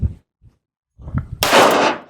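A pistol fired at a 300 meter shooting range: low thuds and handling noise, then one sharp loud report that rings off for about half a second, close by.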